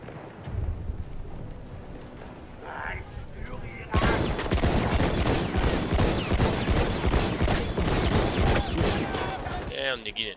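Rapid bursts of Battlefield 1 gunfire, sustained and loud, with dense automatic shooting after a quieter opening stretch.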